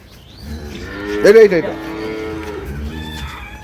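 A dairy cow with her calf lets out one loud, drawn-out moo close by, with softer lowing and farm background noise after it.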